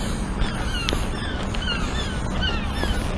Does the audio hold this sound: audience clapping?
no